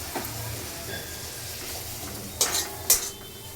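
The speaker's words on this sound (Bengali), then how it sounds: "কারি পাতা ফোড়ন দিয়েছি" Curry leaves and garlic tempering in hot oil, giving a steady low sizzle with soft stirring and two sharp metallic utensil clinks near the end, no speech.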